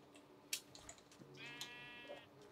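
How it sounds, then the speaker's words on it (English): Sheep in Minecraft bleat a few times, short wavering calls that are fairly quiet and close, with faint clicks and game sounds between them and no talking. "Come here, sheep."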